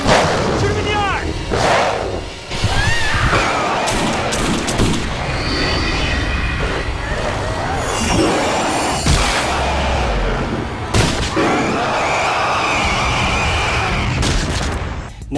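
Gunshots and action sounds from the 2003 film Darkwolf, with sharp loud bangs and booms scattered through a busy, dense mix of scoring and effects, voices shouting over parts of it.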